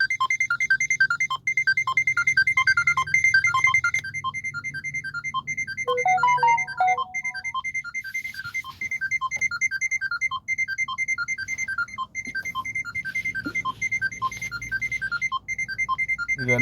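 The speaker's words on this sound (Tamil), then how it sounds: "அட்வான்ஸ் புக்கிங் 3/4 மணி நேரத்துக்கு முன்னாடி இந்த மாதிரி புக்கிங் அலாட் அடிக்கும்" Advance booking alert in a taxi driver app ringing, a repeating electronic chime pattern of high beeps that carries on steadily throughout, with a short melodic run in the middle.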